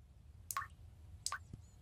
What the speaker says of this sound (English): Homie, the faucet is dripping